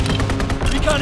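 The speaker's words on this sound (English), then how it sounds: "Anti-aircraft salvo commenced." Anti-aircraft guns fire in Call of Duty WWII, a loud, rapid string of close, punchy shots packed into about a second.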